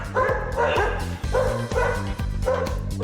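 Several dogs bark and yip in rapid bursts inside a 2,500-square-foot indoor dog park. The barks are loud and close and overlap in a steady, busy rhythm.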